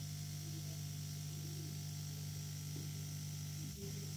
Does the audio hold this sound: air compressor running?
yes